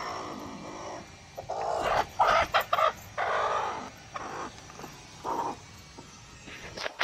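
A hen sitting on eggs clucks and squawks in short bursts, fairly close, with quiet gaps between the calls.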